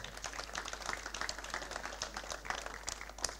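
Applause for Gabriele Franchina at the Premio Sergio Granata 2023 award ceremony: a quiet but busy patter of many hands clapping, with sharp individual claps popping out of the steady rattle.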